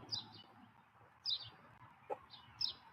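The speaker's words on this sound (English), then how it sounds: "the birds are a little loud" Birds chirp in short bursts at a moderate distance over a low rumbling background, with a single sharper call cutting in near the end.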